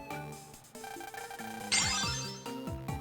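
A phone ringtone from the video game Mega Man Star Force 3 plays as a bright, stepped electronic melody with sliding tones and a rising sweep near the middle, loud and alone.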